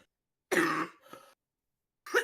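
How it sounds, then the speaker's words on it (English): One person coughs twice, a sharp burst followed by a softer rasp, then a third cough begins, close and clear in an otherwise silent room. "I was trying not to cough and it just didn't happen"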